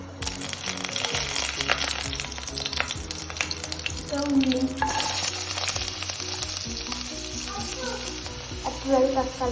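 Oil sizzles in a frying pan while tomatoes cook for a puri bhaji dish, with a continuous close crackling fry and occasional stirring scrapes, and a faint voice now and then.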